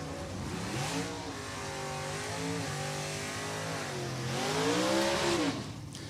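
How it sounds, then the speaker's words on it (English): A factory stock D drag car at an NHRA meet at New England Dragway does a burnout on Mickey Thompson ET drag tires. The engine roars loud and steady, its pitch rising and dipping, then swelling near the end. "Big honk of burnout there for Mattias as he heats up those Mickey Thompson ET drag tires"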